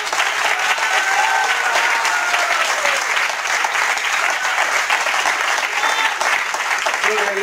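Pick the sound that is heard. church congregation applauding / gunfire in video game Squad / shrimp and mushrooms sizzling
church congregation applauding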